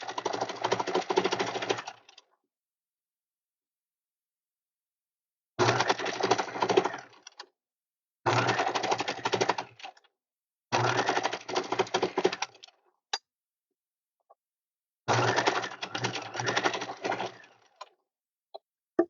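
A sewing machine with a zipper foot runs in several bursts of rapid mechanical stitching along a zipper on fabric, stopping for silent pauses in between.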